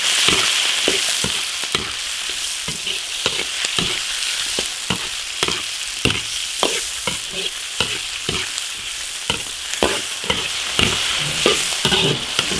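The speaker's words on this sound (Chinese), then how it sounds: "炒香大章鱼" Octopus tentacles are stir-fried in an iron wok with ginger, garlic and seafood sauce, giving a steady loud sizzle broken by repeated sharp scraping strokes of the spatula, with no talking.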